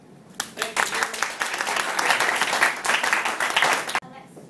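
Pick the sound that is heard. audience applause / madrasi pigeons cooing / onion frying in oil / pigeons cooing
audience applause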